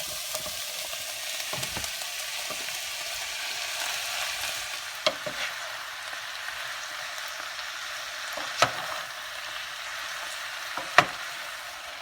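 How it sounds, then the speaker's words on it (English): Vegetables and Kalamata olives fry in a pan for ropa vieja, a steady close sizzle running throughout with a few brief stirring scrapes and knocks, no voices. "I'm going to go ahead and cook the rest of the vegetables"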